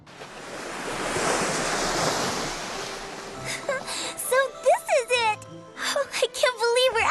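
Ocean waves at the shore at night: a broad, steady wash of surf and wind noise that swells, then settles under a conversation between two people.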